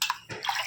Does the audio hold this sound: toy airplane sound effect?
no